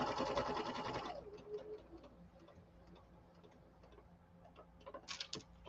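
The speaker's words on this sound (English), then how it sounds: "You're going to sew all the way around." A home sewing machine stitches all the way around a pinned piece, running in a loud steady burst for about a second before stopping, followed by quiet small handling sounds and a brief rattle near the end.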